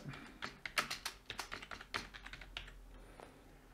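Quick bursts of typing on a computer keyboard while entering a name during cloud backup setup on a QNAP device, an irregular run of close, crisp key clicks with short pauses and no talking.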